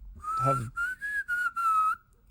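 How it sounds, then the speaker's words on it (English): A person whistles a sustained tune during a whistling competition, in clear, bright tones broken into several short phrases, close to the listener, with a brief voice sound near the start. "Do you want to win this whistling competition too?"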